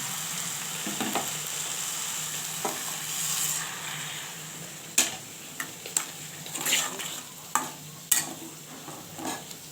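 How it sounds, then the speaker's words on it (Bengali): Boiled lentils are stirred into fried jute greens in a pan, a steady low sizzle at first, then a series of distinct scraping and clinking spoon strokes against the pan in the second half. "এখন আমি সেদ্ধ করে রাখা ডালটা দিয়ে দিচ্ছি"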